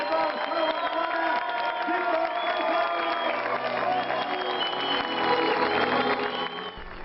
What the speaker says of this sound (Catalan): Un aplaudiment per l'equip número 1, Suzuki català, Josep Salvador, Salva Cabana